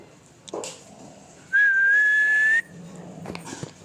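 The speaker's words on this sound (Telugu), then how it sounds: "ఇప్పుడు విజిల్ వేస్తే" A single sustained whistle, clear and slightly rising in pitch, lasting about a second, with faint background rustle and a couple of soft knocks around it, before a Splendor motorcycle arrives.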